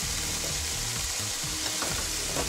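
Smoked bacon sizzles and spits steadily in a hot pan, a dense continuous crackle with small pops scattered through it.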